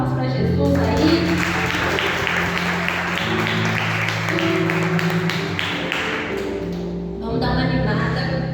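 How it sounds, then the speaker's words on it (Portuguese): Applause from a church congregation, a rhythmic patter of clapping that rises under sustained keyboard or organ chords and voices, fading near the end before the music swells again. "Vamos dar uma salva de palmas para Jesus aí."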